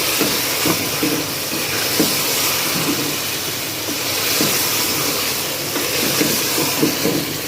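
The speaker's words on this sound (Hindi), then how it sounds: "टिंडे गोश्त हमारे अच्छी तरह भून रहे हैं।" Tinda gosht, apple gourd and meat, frying in a pan: a steady, close sizzling hiss that holds at an even level throughout, with no talking.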